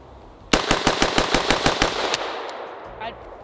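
Rifle fitted with a flash hider fires a rapid string of about ten loud, close shots in just over a second, then the echo trails off into quiet.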